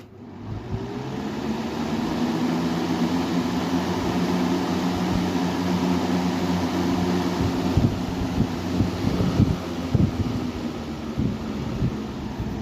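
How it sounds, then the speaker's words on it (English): A Lasko Cool Colors box fan runs on its high setting, giving a steady, broad motor-and-blade whoosh with a low hum and a few bumps and rattles throughout. "That's a cool motor sound to it."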